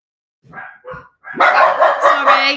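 A dog barks indoors, a few short muffled woofs from further away, followed by a burst of loud, close, rapid barks in quick succession.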